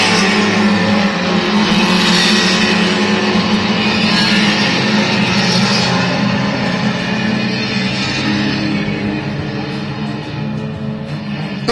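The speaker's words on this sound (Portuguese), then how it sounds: "Tentar escutar o barulho do carro" A race car engine roars steadily during a brand-and-driver series race, loud and sustained at a distance with a slight fade near the end; the car may be stuck in third gear.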